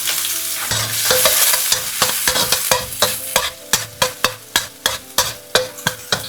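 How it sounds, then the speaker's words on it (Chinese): Minced garlic and scallion whites stir-fried in hot oil in a wok, a steady sizzle broken by a rapid run of sharp spatula scrapes and clacks that grow louder and more distinct toward the end, with no talking. "鍋中放少許食用油，油熱後加入蒜末和蔥白"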